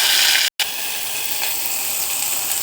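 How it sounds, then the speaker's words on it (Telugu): Peanuts, mustard seeds, cumin and urad dal fry in hot oil with a steady bright sizzle, close and continuous, with one very brief break near the start. "కొన్ని పల్లీలు, ఆవాలు, జీలకర్రలు, మినపప్పు వేసుకున్నాను. వేగుతున్నాయి."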